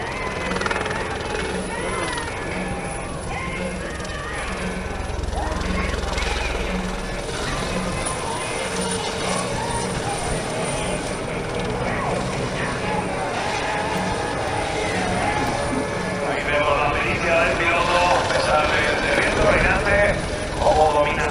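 A military training helicopter drones steadily throughout at an airshow in Torre del Mar, with a continuous engine roar and rotor hum, while people talk over it.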